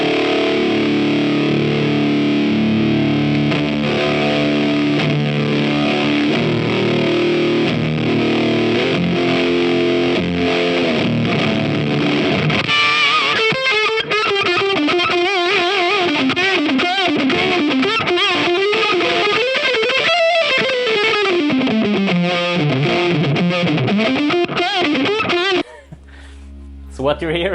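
Electric guitar played through a JHS PG-14 distortion pedal with the push control maxed, giving a thick, saturated, sustained tone that shifts midway into a brighter, wavering lead line before cutting off abruptly near the end.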